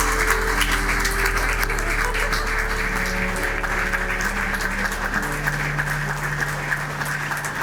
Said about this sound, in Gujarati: મિત્તલબેન આપણી દીદીને સૌ ઊભા થઈ તાળીઓના ગડગડાટથી વધાવી લઈએ